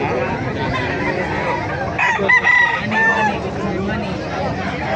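Hennie gamefowl rooster crowing in a yard over steady background noise and other fowl, with a loud crow around the middle of the clip and faint clucking nearby.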